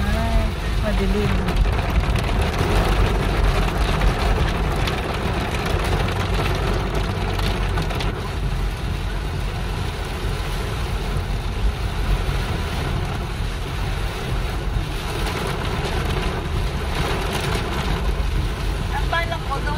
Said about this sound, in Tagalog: Uy, OMG, this is so nalakas na ulan.